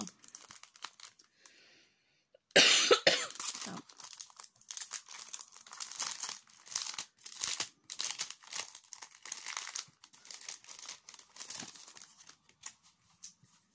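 Wrapping paper on an advent calendar package crinkles and tears close up, starting with one loud rip and then continuing as irregular bursts of rustling and crumpling with brief pauses between them.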